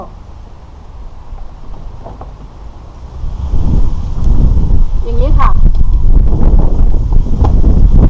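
Strong wind roars across the microphone in an apple orchard during a storm, starting moderate and building to a loud, continuous buffeting gust, while someone speaks briefly over it.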